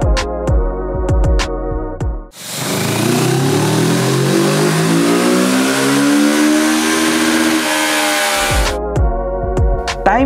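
A 2021 Kawasaki Z650 motorcycle on a dyno, blipping its throttle in short sharp revs, then holding one long loud run where the engine climbs steadily in pitch before cutting back to quick revs.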